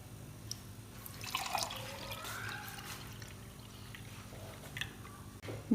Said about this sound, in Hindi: अब इसके अंदर हम डालेंगे जो हमने रेडी किया है मिंट मार्गरीटा।